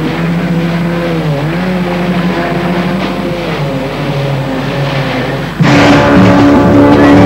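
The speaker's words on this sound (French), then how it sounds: "Le bruit du Zodiac semble compliquer le problème." Zodiac inflatable boat outboard engine running at speed at sea while chasing a sperm whale, a steady loud motor drone throughout that jumps abruptly louder and brighter near the end.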